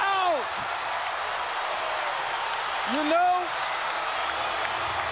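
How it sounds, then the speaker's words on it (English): A basketball arena crowd roars steadily throughout a late-game NBA moment, a broad wash of cheering and applause with a swell near the end, while a commentator talks over it. "this crowd is electric"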